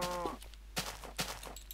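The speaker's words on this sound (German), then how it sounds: "Boah, böse Kuh." A Minecraft cow gives a short, low moo at the start, followed by a few soft thumping game sounds.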